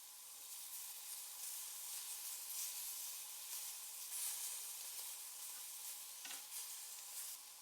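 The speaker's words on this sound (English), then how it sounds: "Place the marinated beef cubes into the pan and allow them to slightly blacken in" Marinated beef cubes sizzle steadily in a hot, dry griddle pan with no oil, a continuous bright crackle and hiss at close range, with a few louder spits and no voices.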